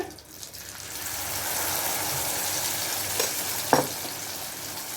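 Egg omelette batter fries in hot oil with a steady, close sizzle that swells after a quiet start, plus a brief clink of a ladle near the end.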